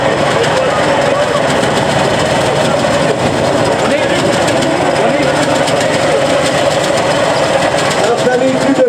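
A vintage Audi 100 engine runs at a steady idle close by, a continuous busy mechanical hum, with people talking over it throughout.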